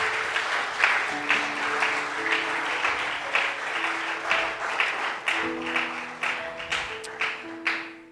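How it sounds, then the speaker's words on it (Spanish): Congregation clapping during a Spanish-language church service, a loose sustained patter of hands under sustained musical tones, moderately quiet and roomy with rhythmic swells. "Dele palmas al Rey de Gloria en esta hora."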